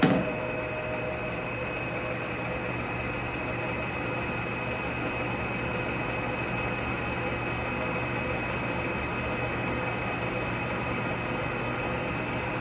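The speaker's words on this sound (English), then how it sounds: "So I have now fully passed that, so I can shut this machine down, let it wind down." A knurling machine, switched off at the clutch partway through knurling a ball peen hammer, spins down in a steady broadband whir with a faint hum, loud and close, carrying on evenly for the whole stretch.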